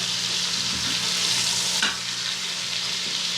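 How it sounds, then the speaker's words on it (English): Pork roast browning in an Instant Pot gives a loud, steady sizzle with a brief crackling burst partway through, alone without talk. "I'm trying to talk over my sizzle here"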